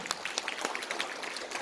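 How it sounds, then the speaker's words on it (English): Audience applause at a morning talk, a short burst of dense scattered clapping, fairly faint and without speech. "Please give yourselves a big round of applause"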